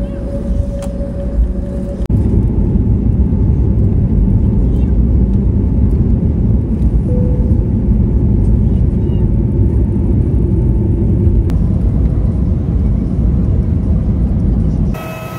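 Steady, loud low-pitched engine drone inside an airplane cabin during a flight over Kazakhstan toward Almaty, a continuous rumble that barely varies, with a short quieter stretch at the start.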